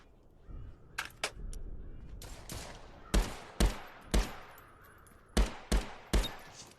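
M4 rifle firing at a shooting range in a VR video game: a handful of sharp single shots, some in quick pairs, then a steadier series of spaced cracks, close and loud over a low background hum.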